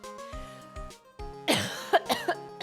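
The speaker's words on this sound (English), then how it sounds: "I'm already coughing." A person coughs several times in a row during a gaming session, the coughs close and fairly loud, with a couple of separate bursts following an earlier quieter stretch.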